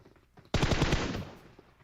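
Rapid automatic gunfire in PUBG on the Miramar map bursts out suddenly after a brief quiet moment, a loud, close string of shots that then trails off into a fading echo.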